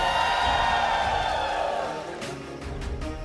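A crowd in an esports arena at a Mobile Legends playoff cheers and shouts together in a loud, reverberant roar that softens partway through, while an announcer talks over it.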